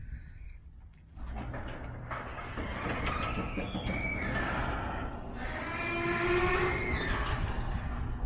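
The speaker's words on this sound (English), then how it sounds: "I'm going to go ahead and open the garage for you so we can see it all together." A garage door rolls open at a house, a long, rumbling mechanical grind with rattling and squeaks that builds after a brief click and continues steadily.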